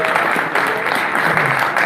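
Applause from a live event audience clapping for two members of Divi Project, a dense, loud, continuous clatter of many hands that fills the whole moment.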